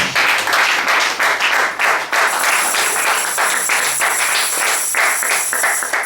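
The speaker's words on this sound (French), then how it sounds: "Est-ce qu'on peut acclamer pour ce passage?" A wedding congregation applauds a Bible passage during a sermon on marriage: dense, loud clapping that runs steadily for the whole stretch, with a few brighter hand claps standing out and no talking over it.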